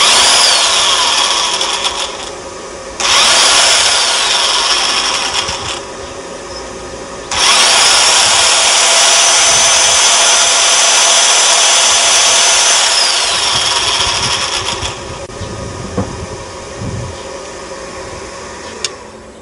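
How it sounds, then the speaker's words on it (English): A power drill runs from a solar-powered inverter in loud, sustained bursts with short pauses between them, a whirring motor note over a noisy background hum from the inverter's fan. "the drill works as if it's plugged into the mains"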